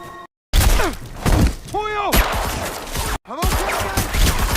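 Gunfire in an action film scene inside a cave: loud sharp shots and crashing impacts with whizzing, ricochet-like sweeps, broken by brief silent cuts, with voices mixed in.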